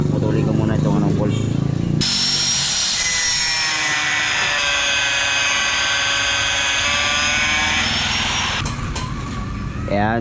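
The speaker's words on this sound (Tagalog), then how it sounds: "putulin ko muna itong bolt" A power tool cuts through a bolt on a Honda Supremo cam holder, a loud, sustained high-pitched whine that starts abruptly and runs for several seconds before cutting off, with a voice talking briefly before it.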